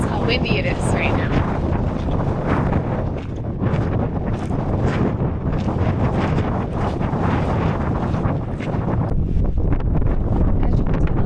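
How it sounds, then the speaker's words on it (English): Strong outdoor wind buffeting the microphone on a hike, a constant loud rumbling roar with gusty swells, and a voice faintly audible beneath it. "To experience how windy it is right now."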